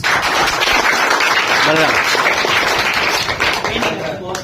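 A Bihar school audience gives a teacher a loud round of applause, dense steady clapping filling the whole stretch with a brief voice rising through it.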